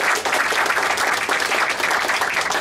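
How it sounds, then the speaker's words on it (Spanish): Welcoming applause from an audience at a science talk session, a dense steady wash of many hands clapping that fills the whole stretch at even loudness, with no talking over it. "démosle un aplauso de bienvenida"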